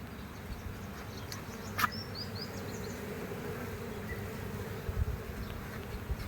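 Honey bees at the Hatta bee farm in Dubai, UAE buzz in a dense, continuous swarm drone, with individual bees passing close now and then over the steady hum, and no talking.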